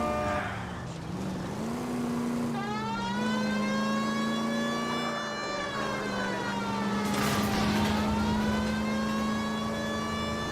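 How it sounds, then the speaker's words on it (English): A police car siren in the video game L.A. Noire wails continuously, rising and falling in a long sweeping tone over engine and road noise, loud and close throughout. "You know we've got a siren, Phelps."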